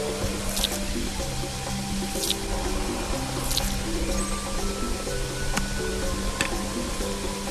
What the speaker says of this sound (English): Use this chocolate pot to pour the chuckwa back and forth.